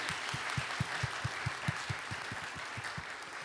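Applause at a church youth worship service, heard as a quiet, steady run of about fifteen evenly spaced claps over a faint hiss rather than a crowd roar.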